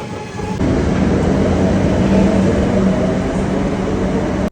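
A metro train rolls into a Kolkata-area station on the Dakshineswar line on a rainy day, a loud, steady rumble of wheels and carriages with faint clickety-clack, rising within the first second and holding close.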